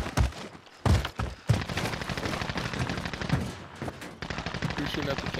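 Rapid gunfire in Call of Duty: Modern Warfare multiplayer, with repeated loud bursts of automatic weapon fire and single shots cracking close by throughout, continuous battle noise filling the gaps.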